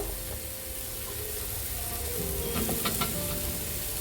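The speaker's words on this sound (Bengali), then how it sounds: "আলুগুলো ডাটাটাই আগে ভেজে নিচ্ছি" Drumstick stems fry in hot oil over cooked turmeric masala for a potato and rohu fish curry, giving a dense steady sizzle up close with a few brief stirring scrapes near the middle.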